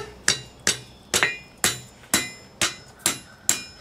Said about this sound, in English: hit it over the edge of the anvil